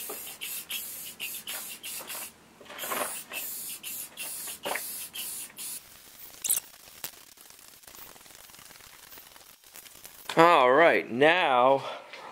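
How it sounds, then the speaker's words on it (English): Matte clear coat sprayed onto a wooden bookshelf top, short hissing aerosol bursts interrupted by pauses while someone talks, with a brief odd squeal near the end. "we're going to be spraying this coat on so that way there's no brush marks or anything"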